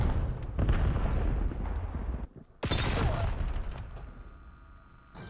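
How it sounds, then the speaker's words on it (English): Bursts of gunfire and booming blasts from a competitive esports shooter match, loud and dense, cutting out briefly and then resuming before fading toward the end. "Incoming gunfire by everybody"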